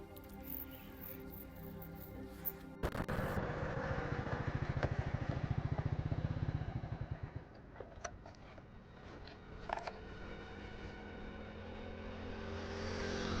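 A motorcycle engine idles with a steady low rumble, then a closer burst of rapid ticking putter for a few seconds before settling back to a fainter drone, with scattered small clicks on a street.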